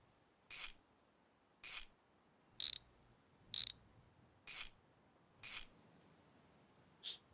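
A ratcheting wrench from the game My Garage clicks in seven short, evenly spaced bursts, crisp and metallic against near silence.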